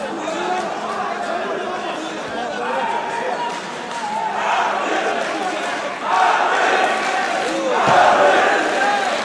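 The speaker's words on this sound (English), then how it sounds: "Arbi has a lot of support here as well. Crowd egging him to try and get back to his feet." A wrestling arena crowd shouts and cheers in support of a grappler during a freestyle bout, the roar of many voices swelling louder in waves toward the end, with commentary talk running over it.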